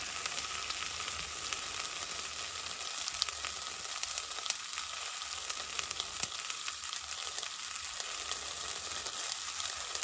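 Onions browning in a pan sizzle and crackle steadily as they are stirred, a constant bright frying hiss with faint, intermittent scraping underneath, no voices.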